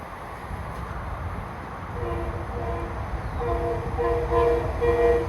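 Metro-North M8 electric train arriving at Stratford station on the New Haven line, a low rumble of the approaching train building up, then a multi-tone horn sounding in bursts toward the end, growing louder.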